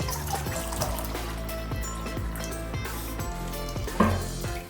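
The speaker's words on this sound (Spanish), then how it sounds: "vamos a ponerle media taza de agua" Half a cup of water is poured onto sugar for candied almonds and nuts, a steady trickling pour that ends with a brief splash, heard close under rhythmic background music and with no talking.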